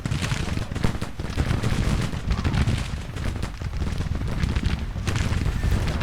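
Massed musket fire crackles continuously in the Civil War battle game Grand Tactician as units open fire, a dense rolling fusillade of overlapping shots at mid distance with no talking.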